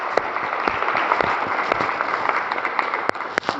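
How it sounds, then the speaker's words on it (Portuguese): Church congregation applauding, a dense, steady burst of many hands clapping together that carries on for several seconds with no talk over it. "Você pode dar aplauso ao Senhor por isso?"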